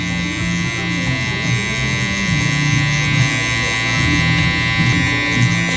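Electric hair clippers buzz steadily and close up throughout while cutting a taper fade on a customer's hair, the motor's hum holding an even level with no voices heard.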